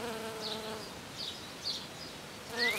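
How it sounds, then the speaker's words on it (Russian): Bees buzzing around blooming tradescantia flowers, a faint steady hum with a few closer passes swelling and fading, heard without any talking. "Пчелки вот работают."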